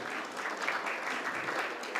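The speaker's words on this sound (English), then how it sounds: "Can we please have a huge round of applause as we welcome him?" Dense, steady applause from a conference audience welcoming a speaker at the inaugural session of an auto retail conclave, heard at a moderate distance with no talk over it.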